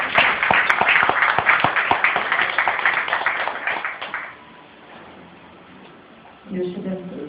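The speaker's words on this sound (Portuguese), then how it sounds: "as palmas engrandecem ao Rei de Reis" A church congregation claps in a steady, rhythmic beat for about four seconds, then the clapping fades into a quiet room before a voice speaks near the end.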